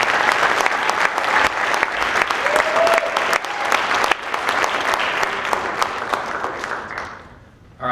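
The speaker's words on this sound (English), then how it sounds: "So please give them a round of applause for their hard" Sustained applause from an audience at a school winter sports awards ceremony, honoring the girls basketball team; dense, steady clapping fills most of the span before tapering off near the end.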